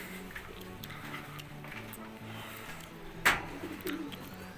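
Low, soft cooing of homing pigeons repeating in a steady pattern, with a sharp click and some fluttering partway through.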